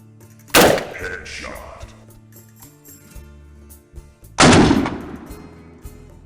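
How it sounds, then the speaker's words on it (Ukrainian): Two loud, sharp AR-15 rifle shots a few seconds apart, each ringing out with a short echoing tail against a low background hum. "І плавно натискаємо на гачок і робимо постріл"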